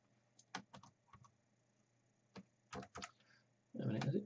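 Keys clacking on a new computer keyboard while setting up a Raspberry Pi 4 with 8 GB of RAM, in short irregular bursts of taps separated by pauses, close and fairly quiet, ending in a louder rustle.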